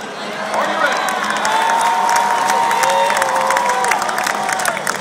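A large stadium crowd at a University of Georgia event, led by the coach, chants and cheers in a loud, sustained roar of voices with shouts and whoops throughout.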